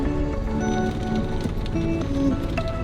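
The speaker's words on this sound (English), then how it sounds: "Rain is here." Storm rain in Kenya falling on surfaces close by, a dense, continuous patter mixed with faint background noise.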